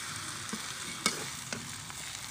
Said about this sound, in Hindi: मसाला जो भी पक के तैयार है उसमें हमें कचालू को अच्छे से मिक्स करना है